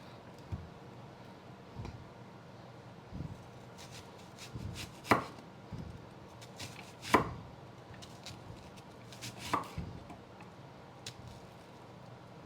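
A knife chops vegetables on a cutting board in a home kitchen, sounding as sparse, irregular close thuds and a few sharper knocks over a quiet background.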